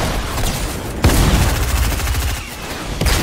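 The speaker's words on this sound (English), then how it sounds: "Getting sniped at and everything." Sustained gunfire in a Fortnite-style battle-royale match while being sniped at: dense, loud rattling bursts with sharp shot onsets roughly every second, continuous across the clip with no talk.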